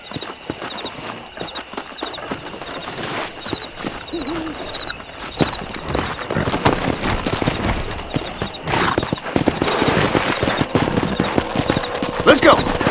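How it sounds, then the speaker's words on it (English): Horses clip-clop at a gallop through the open country of the Red Dead Redemption video game, hoofbeats building steadily over a dense mix of game ambience, with a brief gunfire-like crack in places. "Let's see if we can't wrangle some horses."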